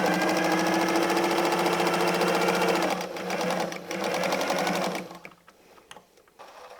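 A sewing machine stitches down a patchwork quilt's binding edge at a 1.5 stitch width, a fast, steady, close mechanical whirr and rattle that slows and then stops near the end.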